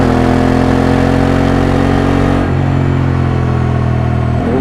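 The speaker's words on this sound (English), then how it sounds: "Lots and lots of wind." Constant loud roar of wind buffeting a rider on a moving motorcycle, a dense steady rush with engine drone underneath, unbroken throughout with only a slight shift in tone partway.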